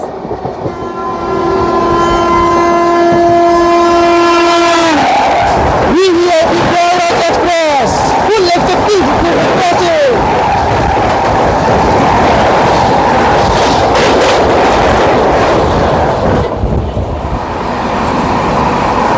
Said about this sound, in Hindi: और ये आ गई है प्रयागराज एक्सप्रेस सामने से फुल ताबड़तोड़ रफ्तार में।